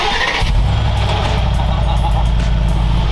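A rare sports car engine fires up and settles into a deep, rough, loud idle right up close, the low rumble holding steady.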